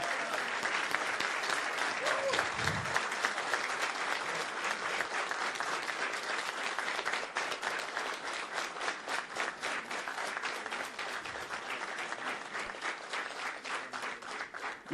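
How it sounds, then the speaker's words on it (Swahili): An audience at a Shabana FC fundraiser gives sustained applause, a dense, even roar of many clapping hands that carries on steadily for the whole stretch with little variation. "Tusimame tupigie huyu jamaa makofi."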